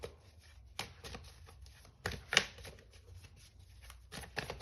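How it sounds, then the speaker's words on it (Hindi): Tarot cards being shuffled and drawn by hand: quiet riffling and soft slaps, with several distinct flicks and snaps in an irregular rhythm, close and faint. "एक और कार्ड निकाल लेते हैं।"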